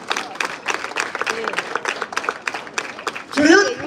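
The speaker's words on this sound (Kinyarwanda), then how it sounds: "Muwongera amashyi." Audience applause at a Rwandan gathering, a dense run of steady clapping with a crowd reaction swelling louder near the end.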